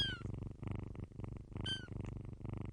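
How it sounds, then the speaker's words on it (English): Two foster kittens, Penelope and Petunia, purr steadily in a close, loud, continuous rumble, with a couple of faint high chirps or meows rising above it. "I am joined in the studio by two of my foster kittens, Penelope and Petunia, who are very purry today."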